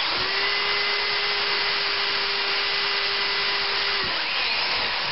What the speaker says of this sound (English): So just put it in a drill so I have a little more control over it